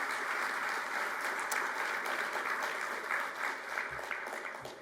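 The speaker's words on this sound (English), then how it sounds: "if we could just get a quick round of applause for all those folks real quick" Audience applause at Brig. Gen. Joseph Clearfield's keynote address, a steady round of clapping from a crowd, moderately distant, tapering slightly at the end.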